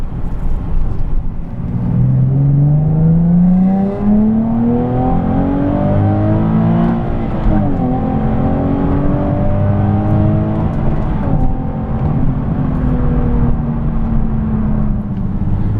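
Naturally aspirated 3.7-litre engine of a Nissan 370Z GT Edition accelerating from inside, a loud steady drone climbing smoothly in pitch through the gears with brief dips at shifts, sustained for about fifteen seconds with no talk.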